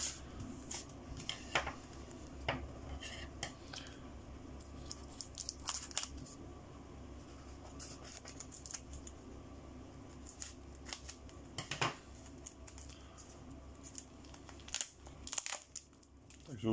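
Protective cardboard packaging around First World War-era monarchy coins is handled and cut close by, giving a long stretch of quiet scraping, crinkling and sharp clicking snips at an uneven pace.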